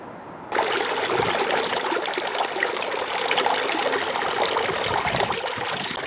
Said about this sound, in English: I've powered it up and it seems to be flowing quite well.